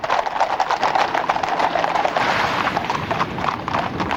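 Horses' hooves clip-clop across a field during an Irish fox hunt with hounds and riders, a dense, fast, overlapping patter from several horses, close and continuous, with no talk.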